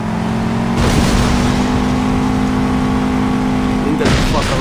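Car engines rev hard at the start of a street race in Saints Row, a loud steady roar that holds for several seconds with a sharp swell at the start and another near the end.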